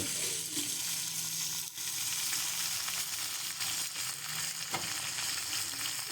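Star fruit pickle with salt and turmeric fried in a pan, a low steady sizzle close by with occasional faint stirring scrapes.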